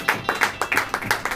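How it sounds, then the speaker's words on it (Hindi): A congregation at a church service claps in unison, about ten sharp rhythmic claps in a steady beat, moderately loud and close. "तो यदि आप विश्वास करते हैं कि यहोवा हमारे बीच में है तो एक जोरदार ताली बजाएं।"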